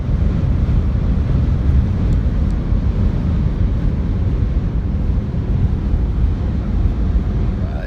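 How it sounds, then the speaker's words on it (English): Strong wind roars and buffets continuously on a West Texas road trip, a loud, low rumbling rush without a break. "and it is windy."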